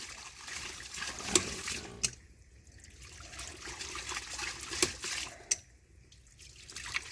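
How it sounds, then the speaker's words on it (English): Water spurts and splashes from a working ram pump, a steady rushing flow with sharp periodic clicks of the valve, heard close with no talk. "Then how come water's coming out?"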